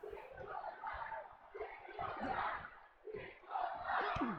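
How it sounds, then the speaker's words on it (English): Arena crowd in WWE 2K24 chanting during a wrestling match, a steady roaring mass of voices with rhythmic rises and swells across the whole stretch, moderately loud and continuous. "Crowd chanting for the 619."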